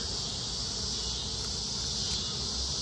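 A dense, steady drone of many calm honey bees buzzing together at a hive near sunset, continuous and close, with no voices.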